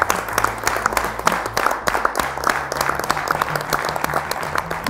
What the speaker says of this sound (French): je crois qu'on peut s'auto-applaudir